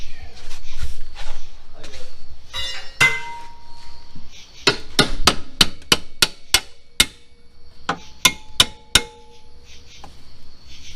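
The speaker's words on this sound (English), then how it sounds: "Just a quick bang with a hammer, or in Zach's case, his hand." A hammer strikes metal on a 1997 Jeep Grand Cherokee ZJ repeatedly, sharp ringing clangs in an uneven series, some quick bursts, with shuffling and faint background sounds between hits.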